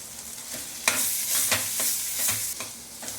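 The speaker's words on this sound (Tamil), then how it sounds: "இப்போ நம்ம கொத்தமல்லியும் கருவேப்பிலையும் ஃபைனலாக போட்டு கிளறிக்கலாம்." A spoon stirs chicken chukka with coriander and curry leaves in a sizzling pan, giving several distinct scraping strokes over a steady hiss of frying oil, close and fairly loud, with no voices.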